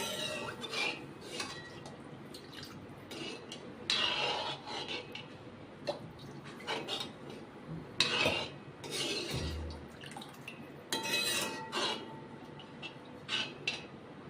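Spoon stirs buttermilk in a metal pot, close scraping and rasping strokes against the pot in irregular bursts with brief clinks, no talk.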